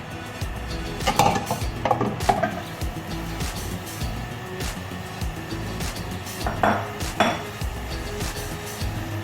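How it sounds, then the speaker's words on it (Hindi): Beef goes into a large pot on a stove for Pakistani yakhni pulao, with several sharp metallic clanks and clinks of the pot and utensils over a low kitchen background. "बड़ा पतीला रख दिया चूल्हे के ऊपर, और इसके अंदर हम गोश्त ऐड करेंगे"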